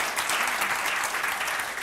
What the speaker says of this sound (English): Thanks, and an applause once more